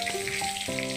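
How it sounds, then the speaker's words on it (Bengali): Cumin seeds sizzle steadily in hot oil in a kadai for an aloo-papaya curry, a continuous close crackling hiss with no voices. "জিরে ফোড়ন দিলাম"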